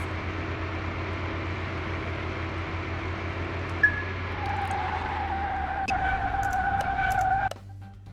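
Dodge Viper launching off the line in the Car Mechanic 2021 video game, a steady engine drone that rises into a climbing whine as revs build, then cuts off abruptly near the end.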